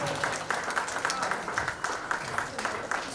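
An audience applauds at a book launch, a continuous patter of many hands clapping at moderate distance, with voices talking over it.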